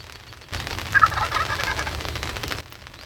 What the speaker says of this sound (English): This turkey is gobbling to say, hey, I'm over here.